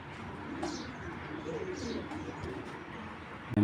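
Soft, low Giribaz pigeon coos repeat in a gentle rolling rhythm over faint background noise, ending with a sudden bump.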